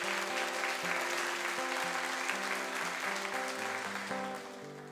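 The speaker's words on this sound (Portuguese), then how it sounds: "Uma salva de palmas para Jesus." A congregation applauds steadily during a church service, a dense, sustained wash of clapping over sustained musical tones that eases off slightly at the end.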